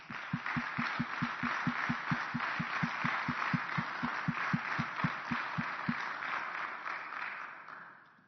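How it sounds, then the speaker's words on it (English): An annual meeting audience applauds for Dave, a steady wash of clapping with a regular low thumping beat underneath that stops before the applause tails off. "Let's give Dave a round of applause."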